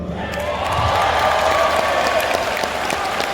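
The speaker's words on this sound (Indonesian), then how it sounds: "Sehingga tepuk tangan lebih keras." A seminar audience claps in sustained, dense applause that stays steady and loud throughout, filling the room without a break.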